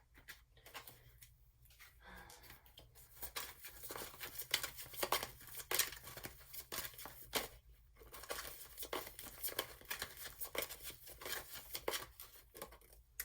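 A deck of tarot cards is shuffled and handled close by, giving quiet, continuous crinkly riffling and papery flicks in uneven bursts.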